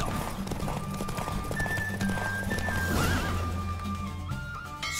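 A horse in The Witcher 3 gives a loud whinny over steady galloping hoofbeats, with game ambience and music running underneath.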